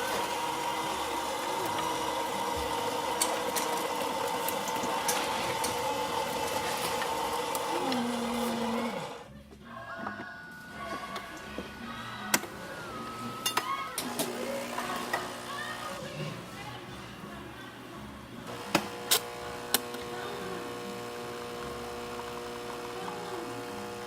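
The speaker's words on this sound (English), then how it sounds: "and now she's running shots." A Saeco Odea Giro espresso machine brewing a shot after a tune-up, a steady mechanical pump hum and whir that drops in level partway through, followed by quieter running with occasional clicks and taps.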